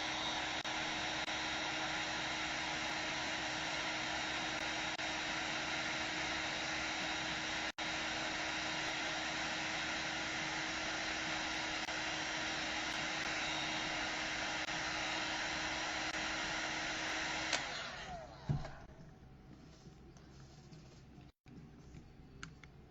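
A heat gun runs with a steady, loud blowing roar for about eighteen seconds while shrinking heat-shrink tubing on an RC car build, then cuts off, leaving a few faint handling clicks.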